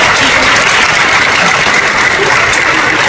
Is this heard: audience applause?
yes